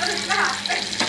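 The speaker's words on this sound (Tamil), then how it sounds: "இப்போ அதுக்கு மீன் போட்டு பொரிக்கலாம்" Oil sizzles and crackles steadily as fish fries in a pan, a close, busy hiss with a brief louder burst near the end.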